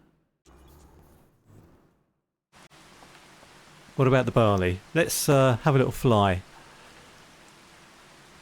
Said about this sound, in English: Well, it's raining anyway.